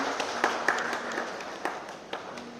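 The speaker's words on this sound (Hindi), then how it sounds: "तालियों के साथ इनका स्वागत करें।" Audience applause at a welcome ceremony for a first cohort of incubated companies, a steady wash of moderate clapping with a few sharper claps standing out, heard from a distance in a hall.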